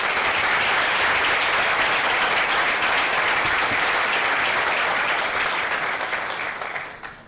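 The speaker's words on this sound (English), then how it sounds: "Please give them a round of applause." An audience at an aviation center groundbreaking gives a loud, sustained round of applause, a dense wash of many hands that holds steady before tapering off near the end.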